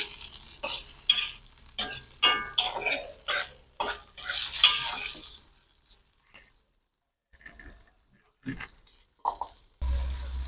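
Sambal terasi with tomato cooking in a pan: busy stirring, spatula scrapes and clatter over light sizzling for several seconds, then near silence broken by a few isolated knocks.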